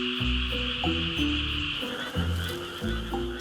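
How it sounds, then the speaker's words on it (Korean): Korean brown frogs call near a rice paddy by the forest, loud rhythmic croaks repeating in quick pulses over a continuous high chorus of insects or other frogs. "이 녀석은 한국 산개구리, 산림과 가까운 논에서 관찰되는데"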